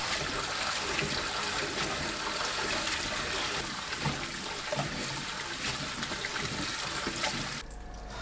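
Octopus is rinsed under running water, a steady, close gush of tap water splashing over it that continues unbroken and cuts off abruptly near the end.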